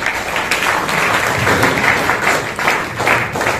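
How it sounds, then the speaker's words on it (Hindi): An audience applauding a guest at a talk, a steady, full wash of clapping that holds at an even level throughout. "एक बार रामेश्वर जी के लिए तालियां हो जाए।"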